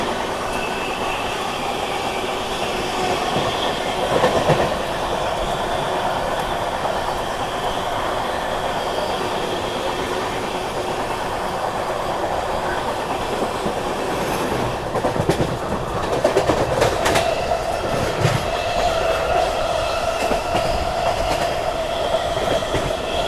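Delhi–Mizoram Rajdhani Express running on rails, heard from inside a first-class AC coach: a steady, loud rumble with rhythmic clickety-clack and occasional wheel squeal as it passes other trains near Etawah, with no talking.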